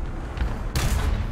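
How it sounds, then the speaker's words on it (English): A tank cannon fires in War Thunder, a single heavy boom with a broad crack that bursts in suddenly partway through, loud and close over a low rumbling battlefield background. "That was a much better shot than my first one."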